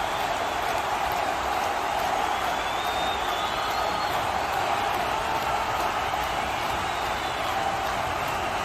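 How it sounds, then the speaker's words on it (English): Crowd sound effects from a virtual football league grand final broadcast, a steady dense roar of murmuring spectators with faint cheering, loud and unbroken throughout. "you forgot to turn off the crowd sound effects"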